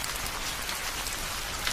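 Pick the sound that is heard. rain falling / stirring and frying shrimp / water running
rain falling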